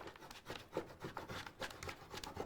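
A scraper tool rubbed over vinyl on a notebook gives a close, dry, rhythmic scraping with repeated strokes and soft rasping pulses throughout.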